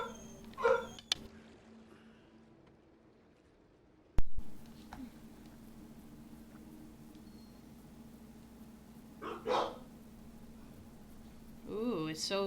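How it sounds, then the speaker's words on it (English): Household dogs bark in a few short bursts, near the start and again toward the end, fairly close but not very loud, over a quiet room with steady background hum. "It'd be better if my dogs weren't barking"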